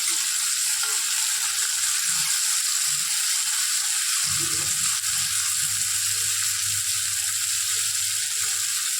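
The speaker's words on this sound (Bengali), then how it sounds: "তো এলাগুলো একটু ভাজা ভাজা করে নিতে হবে" Soaked chickpeas frying in a pan with a loud, continuous crackling sizzle; partway through, a low rumbling hum joins in and holds beneath the frying to the end.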